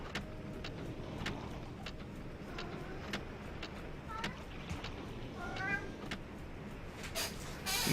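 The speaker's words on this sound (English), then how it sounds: "The official cat interruptions." A house cat gives a few faint meows partway through, quiet against a low background hum and a man's speech.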